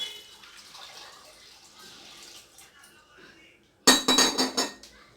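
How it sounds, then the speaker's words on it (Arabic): After a quieter stretch of low background noise, water is poured into a cooking pot over dried fava beans, a sudden loud, close splashing rush that lasts just over a second with a few surges. "غندير الفول ديالي في الطنجره، غندير عليه الماء"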